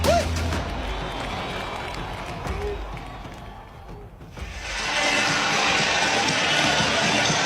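A Mariners playoff crowd facing the Blue Jays rises into a sustained loud roar after a brief lull, following several seconds of lower crowd murmur and thumps with voices mixed in.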